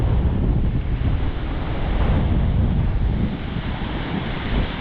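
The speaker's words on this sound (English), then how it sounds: "Oh, there's another one of those gusts of wind." A strong gust of wind roars steadily across the microphone, a dense, low rushing noise with faint surf beneath, loud and continuous.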